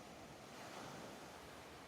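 Soft ocean waves wash steadily onto shore in a continuous, even surf with a faint breezy hiss, quiet and unbroken throughout with no voices.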